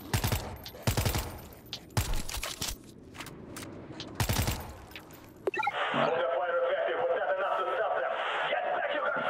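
Several loud volleys of rapid automatic fire in the zombie shooter World War Z crackle up close, then the shooting stops and a steady game ambience with a droning tone takes over.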